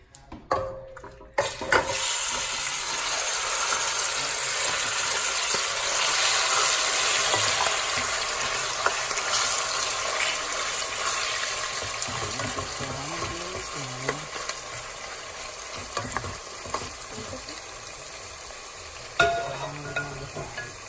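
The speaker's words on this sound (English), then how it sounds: "You hear that sizzling and that popping." Hot oil sizzles steadily and loudly in a pot while cooking Jamaican curry chicken, with scattered pops and a few stirring clatters near the end.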